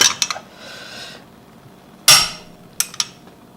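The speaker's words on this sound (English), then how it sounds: "So it clicks at 75" A torque wrench set to 75 foot-pounds tightens a car wheel bolt, giving a few sharp metallic clicks and clanks, with one louder snap in the middle, each separated by near silence.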